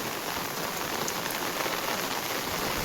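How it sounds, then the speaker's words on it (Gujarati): Heavy rain pours down in a village, an even, dense close patter with no voices or other sounds. "આજે અમારા ગામમાં વરસાદ આવી ગયો છે"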